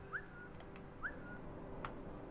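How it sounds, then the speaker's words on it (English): Whistling in the video game Velvet Assassin, two short rising whistle notes repeated about a second apart, thin and faint over a low steady background hum. "I suppose I could try whistling."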